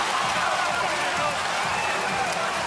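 A basketball arena crowd in Cairns at an NBL game between the Cairns Taipans and the Perth Wildcats roars loudly and steadily, a dense wash of voices with no breaks.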